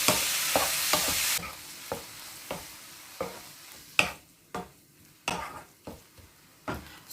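Minced beef sizzles in a hot pan while a utensil stirs and scrapes in repeated strokes, steady frying hiss under regular clinking pushes, close and moderately loud.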